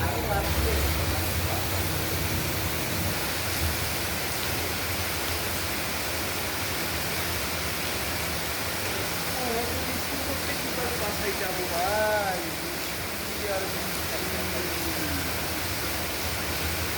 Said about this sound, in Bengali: বৃষ্টির ঝিমঝিম শব্দ সত্যি অনেক সুন্দর